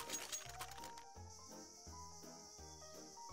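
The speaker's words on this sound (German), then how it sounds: "du hörst sogar einen Grillenzirpen im Hintergrund" Crickets chirp steadily in the background of a Solo Queue matchmaking game session, a faint continuous high trill running alone under low tonal game sounds.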